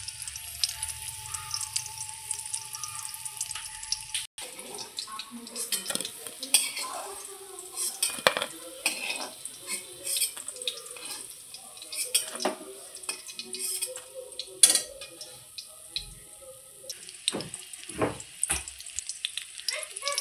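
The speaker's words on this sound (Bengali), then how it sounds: "মিনিটের মধ্যেই বড়াগুলো সব ভাজা হয়ে গেল এক এক করে" Fish roe fritters sizzle in hot oil in a pan, a continuous frying hiss broken by frequent scrapes and clinks of a spatula stirring and turning them, close up.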